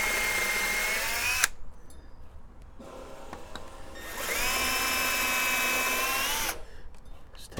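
A power drill bores holes for mounting house address numbers, its motor whining steadily in two long bursts that rise and fall in pitch, with a quieter pause between them.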